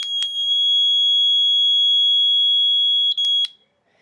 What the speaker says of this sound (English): We had a buzzer, remember that awful sound?